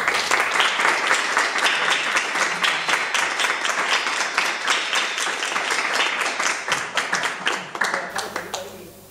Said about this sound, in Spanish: toda la gente acá te aplaudió